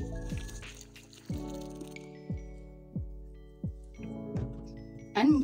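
Water is poured into a mixture for homemade liquid soap and disinfectant, heard as a string of close, rhythmic glugs and drips that repeat at a steady pace.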